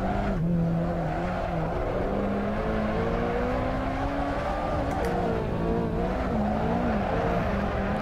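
A ZR1 or Ferrari 458 drifts around Silverstone International in a racing sim, its engine droning steadily while the tires squeal continuously and loudly through the slide.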